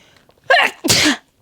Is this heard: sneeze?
yes